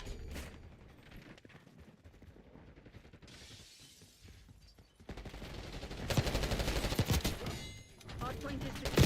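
Shotgun fire in Black Ops 6 multiplayer, a dense burst of loud blasts and impacts building toward the end over steady game noise, with a voice talking early on.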